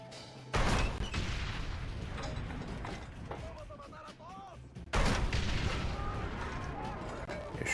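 Gunfire in Red Dead Redemption, two sharp booming shots several seconds apart with mechanical clicking and game ambience between them, while voices talk underneath.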